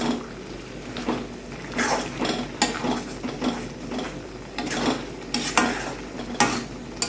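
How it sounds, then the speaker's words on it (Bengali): Spiced kochu pata (taro leaf) paste with salt and turmeric frying in a sheet-metal wok: steady sizzle under repeated scraping, rasping strokes of a spatula, close and fairly loud, no talking. "এখন শুধু ভাজাভাজি করার পালা। ভালোভাবে ভেজে নিতে হবে।"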